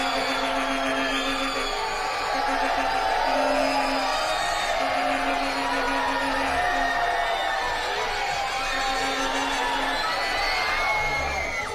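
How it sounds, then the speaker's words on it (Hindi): Girls in a television game show's studio audience shriek and cheer, a dense, loud crowd din of high-pitched screams that fills the whole stretch without a break. "लड़कियां क्या चीखती हैं यार, कसम खुदा की हद है"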